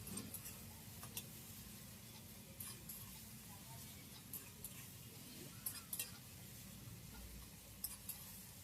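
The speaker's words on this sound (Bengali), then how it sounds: "ভালো করে নেড়ে চেড়ে টমেটোগুলোকে গলিয়ে নেবেন।" Tomatoes cooking in a pan for a Bengali fish curry are stirred, with a low steady sizzle under light, irregular scraping and clicking of a utensil against the pan, quiet and close.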